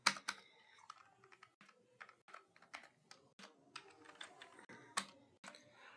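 A paragraph being typed on a computer keyboard, irregular close clicks and clacks with sharp separate keystrokes and brief pauses, quiet room, no voices.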